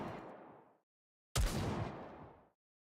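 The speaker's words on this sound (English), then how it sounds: "The sound of gunfire and explosions can be heard in the distance." Muffled booms and blasts in the game NIKKE, two dull rumbling bursts separated by a second of silence, each fading away slowly as if from far off.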